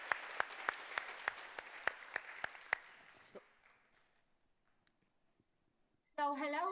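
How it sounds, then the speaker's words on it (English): Scattered, slow individual claps ring out at a school assembly event, fading to near silence after about three seconds, before a voice begins speaking near the end. "Let's give them a round of applause."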